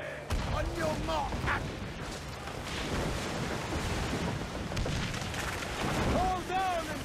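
Naval mortar fire and explosions at sea in Assassin's Creed IV: Black Flag. Dense rumbling booms and crackling blasts roll on almost without a break, with brief whistling tones and voices speaking over the battle.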